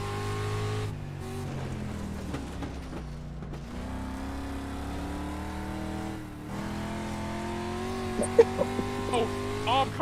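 A dirt sprint car engine in the iRacing sim drones and revs continuously, pitch rising and falling through the corners, loud and close, with a few sharp clicks near the end.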